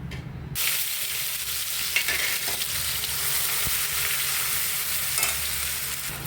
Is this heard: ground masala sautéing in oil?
yes